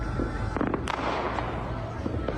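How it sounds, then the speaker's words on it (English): Rifle shots on a Dallas bridge on New Year's Eve pop in quick uneven bursts at middling distance, with a sharp crack standing out, over a crowd murmur and faint voices. "A video posted to social media shows two men standing on the bridge firing rifles."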